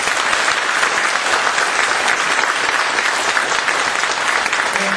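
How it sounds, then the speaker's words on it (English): Steady, loud applause fills a room as an audience claps for city council candidates at the close of a Poway candidate forum, dense and continuous throughout. "I'd like to give a round of applause to all of our candidates,"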